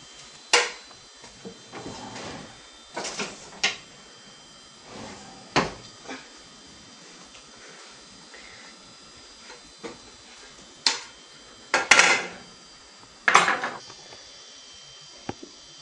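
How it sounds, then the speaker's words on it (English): In a kitchen, a plate, knife and spatula are gathered with scattered soft clicks, clacks and knocks of cupboards, drawers and utensils, sparse and fairly close against a quiet room. "Danny, grab a plate, a knife, and a spatula"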